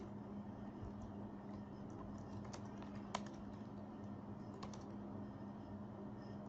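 Soft, quiet keystrokes on a computer keyboard tap irregularly against a low steady hum, with a few sharper clicks standing out.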